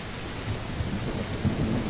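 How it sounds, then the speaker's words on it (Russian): Steady heavy rain hissing throughout, with a low rumble of thunder rolling underneath; no voices. From the video game Granny Remake. "Проливной дождь просто идет."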